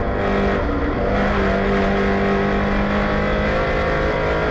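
A touring race car engine drones steadily at high revs on a fast lap at Thunderhill, loud and continuous, with sustained tonal whine and rumble throughout.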